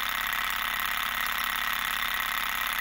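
A small Stirling engine running steadily, with a fast, even mechanical ticking and whirring hum, faint and continuous with no talking.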